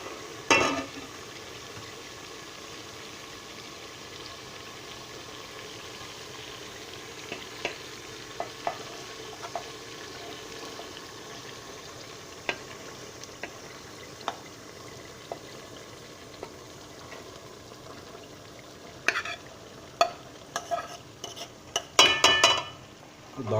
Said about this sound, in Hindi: अब हम इसमें दाल शामिल कर लेते हैं।